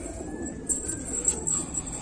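A pigeon coos softly at close range in a pigeon loft, a few low murmuring calls over faint background noise, with no voices.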